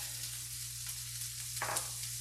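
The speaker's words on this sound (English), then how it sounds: "I'm going to get that sizzle down a little bit." Frying food sizzles steadily in a pan while prime rib beef stroganoff is cooked, with a soft constant hiss and a brief louder crackle near the end. No one speaks.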